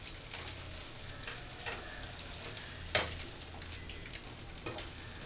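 Onion, tomato and green chilli cooking in a pan for Maggi masala noodles: a soft, steady sizzle with occasional light stirring clicks, fairly quiet and with no voices.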